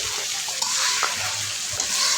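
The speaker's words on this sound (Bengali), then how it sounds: "এখন সবগুলো একটু নেড়ে চেড়ে দিচ্ছি" Meat pieces frying in a pan while being stirred, giving a steady broadband sizzle with a few soft scraping knocks from the spoon, close and continuous with no talking.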